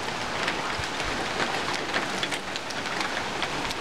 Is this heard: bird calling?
no